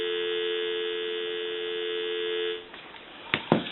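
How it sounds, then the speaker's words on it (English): A steady dial tone hums from a vintage French-style metal telephone for a couple of seconds, then stops, followed by a few sharp clicks from the handset. "So now what we can do is give you some dial tone,"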